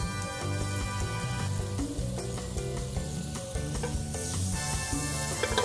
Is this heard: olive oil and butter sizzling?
yes